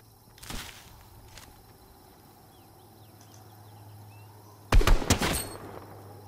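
Video game gunfire in a survival arena: one sharp shot early, then a quick loud cluster of several shots near the end over a faint steady background hum.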